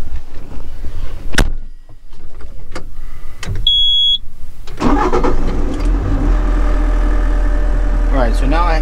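A Bobcat Toolcat utility vehicle engine cranks and starts after a few clicks and clunks, then settles into a loud, steady close diesel idle.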